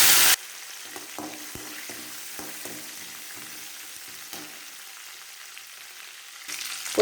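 Curry leaves crackling in hot oil with urad dal and red chili, a soft low sizzle with scattered pops that follows a sharp loud burst at the start, then swells again near the end; no speech.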